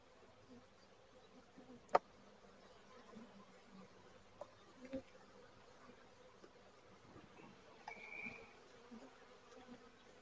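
Honey bees buzz in a faint, steady hum around an open Flow Hive during a frame inspection, with a few sharp clicks and knocks from handling the hive but no speech.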